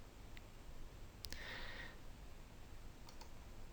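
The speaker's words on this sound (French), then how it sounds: "je vais cocher celle que je souhaite garder et je vais cliquer sur fusion de la personne" Computer mouse clicking in genealogy software, a couple of sharp close clicks early on and a faint pair later, in a quiet room with light hiss.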